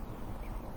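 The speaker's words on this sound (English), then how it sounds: "I have a goose fight going on in the yard." Geese scuffle in a yard, giving faint, distant honking and squabbling calls under a steady outdoor background hush.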